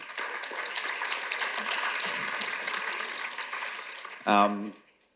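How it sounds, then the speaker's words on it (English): Audience applause at a film-fund announcement panel, a dense steady wash of clapping that carries for several seconds and then tapers off, ending with a brief louder burst near the close. "I'll just take the applause"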